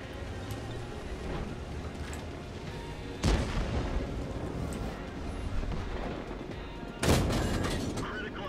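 Two heavy tank cannon shots in World of Tanks on the Kursk map, sharp booming blasts a few seconds apart with rumbling decay, over continuous battlefield background noise.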